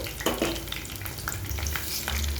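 Curry leaves and green chillies frying in oil for a bendakaya (okra) fry, a quiet crackling sizzle with light stirring scrapes and small pops.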